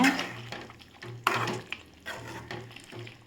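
A spoon stirs village-style chicken sukka with salt in a frying pan, giving a few scraping strokes over a low sizzle, close and fairly quiet.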